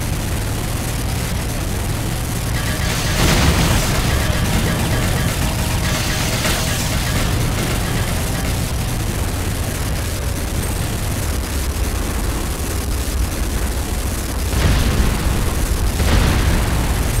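Several heavy booms and explosion bursts from structures being destroyed in the game Renegade ring out over a dense, continuous rumble of battle noise, with louder blasts near the start and the end.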